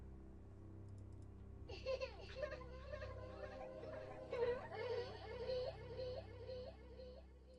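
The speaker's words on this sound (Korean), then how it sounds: "그리고 갓난 아기의 울음소리." A newborn baby's wavering cry in a Korean horror radio story begins after a quiet low hum and continues in rising and falling wails, moderately faint and eerie.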